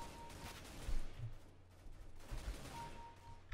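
Machine gun fire in the video game CS GO comes as a couple of short, muffled bursts over a steady low background rumble, fairly faint and somewhat distant, with no talking.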